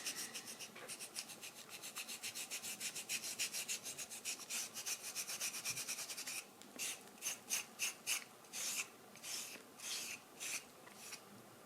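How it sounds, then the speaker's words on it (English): Coffee is rubbed into the carved grooves of a wooden teaspoon, producing fast rhythmic scratchy strokes close up, steady at first and then in slower separate bursts. "Now I'll apply some coffee into the grooves here. So just rub it in"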